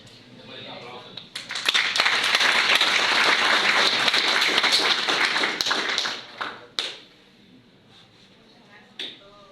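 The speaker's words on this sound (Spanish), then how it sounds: "Después un aplauso." A classroom audience at the end of an auditing lecture breaks into applause, building quickly into a dense burst of clapping that fades after several seconds into a few scattered taps and thumps.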